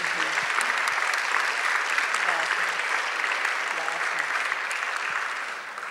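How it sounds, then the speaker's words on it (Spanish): Steady, enthusiastic applause from a large crowd, dense and continuous, tapering slightly toward the end. "recibamos con un fuerte aplauso"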